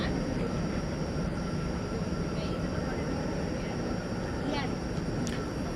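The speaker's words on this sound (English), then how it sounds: "Here goes American 446 to San Francisco. It's an Airbus A321 Neo." Steady broadband roar of an American Airlines Airbus A321neo jet at DFW Airport at night, a constant, fairly loud rumble with a faint whine on top, heard from a distance without a clear rise or fade.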